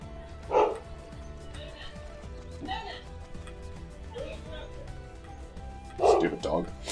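A dog barks in a video game scene, a few separate yips and woofs spaced across several seconds, the last two close together, over a quiet low background.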